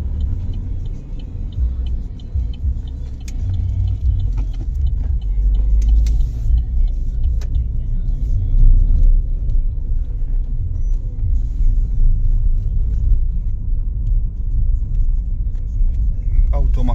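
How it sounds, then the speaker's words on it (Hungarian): An Opel Meriva with a 1.4 turbo petrol engine drives along, its steady low engine and road rumble filling the cabin, with no talk over it. "Nagyon harapos, ugye ez a turbós benzinmotor"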